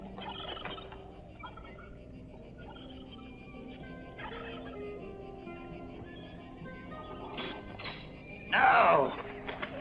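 Turkeys in a yard, gobbling and clucking near and far, with one loud burst of gobbles toward the end, while people talk in the background.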